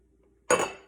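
A fork scrapes and clinks against a bowl while brown sugar is blended into dry ingredients for apple crisp, a short close burst of metallic scraping after a moment of near silence.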